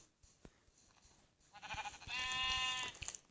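A sheep in Minecraft bleats once in a long, wavering call, loud and close, after a few soft clicks and taps; no one speaks.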